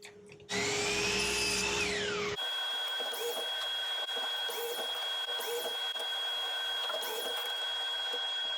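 A power saw crosscuts wood slats to length, whining in a brief high-pitched burst that winds down after a couple of seconds, followed by quieter workshop sounds with faint repeated clatter.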